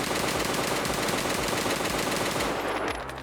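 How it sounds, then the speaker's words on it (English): An SR25 DMR rifle in Escape From Tarkov fires a fast, steady string of loud close shots with no recoil control, the rapid reports running continuously before cutting off near the end. "I'm just going to fire without recoil control so you guys can see"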